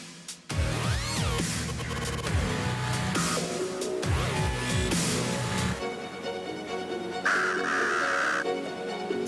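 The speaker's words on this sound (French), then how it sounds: "C'est des corneilles et non des corbeaux." Crows cawing repeatedly outdoors on a winter morning in Québec, harsh calls overlapping near and farther off in a steady series, with a brief higher whistling tone late on.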